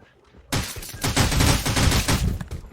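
Dense, continuous gunfire from a shooting video game starts abruptly and carries on loud for over two seconds as rapid overlapping shots, with no talk over it.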